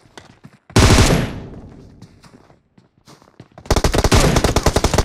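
Gunfire in the mobile battle royale PUBG Mobile: a single loud close shot with a decaying echo, a brief lull of faint steps, then a fast, loud automatic burst of rapid shots.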